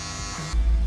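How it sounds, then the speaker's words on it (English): A cordless lithium-ion hair clipper buzzes briefly at close range in a barbershop, its hum jumping to a heavier, louder drone halfway through. "just a little clipper over comb"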